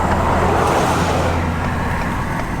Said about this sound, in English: The Ford passed me.